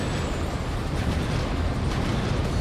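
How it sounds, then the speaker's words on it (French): Explosion in the video game Sonic 06, a dense, loud, sustained roaring blast of broadband noise that fills the whole moment without any talk. "Oh, la hitbox de l'explosion"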